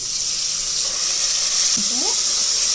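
Spice paste of chili, coriander and other ground spices frying in hot oil for a chicken and potato curry, a steady bright sizzle throughout with a brief scrape of stirring near the end.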